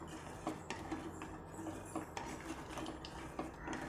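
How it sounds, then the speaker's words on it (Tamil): A spoon stirring thick fenugreek kali batter in a pan, a steady low scraping and soft clinking against the metal, close but quiet, with no speech. "நல்லா கிண்டி விட்டுட்டே இருங்க, இல்லைன்னா அடி பிடிச்சிரும், சட்டி கருப்பாயிரும்"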